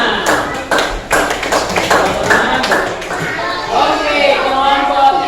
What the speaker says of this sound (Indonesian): kita berikan tepuk tangan untuk kelompok 5